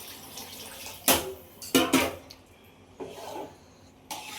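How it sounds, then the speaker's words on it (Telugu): Water goes into a pot of rice for vegetable pulao in a few short, separate pours, with brief splashing gushes and quiet pauses between them and no talking. "రైస్లో వాటర్ వేసుకుంటున్నాను అండి"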